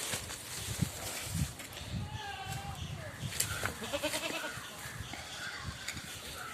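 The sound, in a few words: goat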